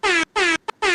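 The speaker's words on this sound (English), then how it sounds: "You get the air horn, baby." Three loud blasts of an air horn sound effect, each lasting about a quarter second, with a brief higher blip between the second and third blast.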